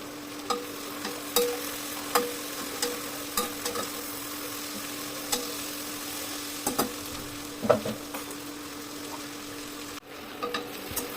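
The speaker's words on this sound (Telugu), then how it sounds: "ఇవన్నీ కూడా రెండు నిమిషాలు బాగా వేయించుకోవాలి" Ingredients for mushroom pulao fry and sizzle steadily in a pan, a continuous close crackle broken by soft stirring scrapes and ladle taps, with no talking.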